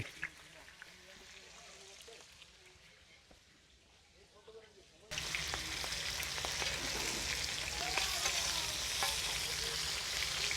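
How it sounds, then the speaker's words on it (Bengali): Hilsa fish fry in hot oil at a riverside stall at Mawa Ghat. After a quieter start, a loud, close, crackling sizzle suddenly starts and holds steady, with people talking around it. "ফ্রাই শুরু হয়ে গেছে ফ্রাই শুরু হয়ে গেছে"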